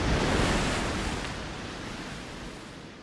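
Ocean waves washing onto a seashore make a dense, steady roar of surf that starts loud and eases slightly over a few seconds, with no voices.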